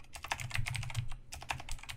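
Fast, close clicking of keys on a computer keyboard, bursts of typing with a brief pause midway, no voices.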